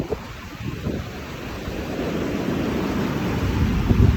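Surf rolls in steadily along long Jomtien Beach in Thailand on a misty day, a continuous wash of breaking waves with light wind noise, building slightly louder toward the end.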